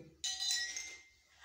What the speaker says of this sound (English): The more water present in the glass, the lower the sound note.